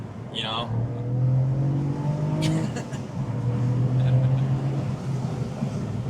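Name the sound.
Cadillac CT4-V Blackwing engine exhaust burble while driving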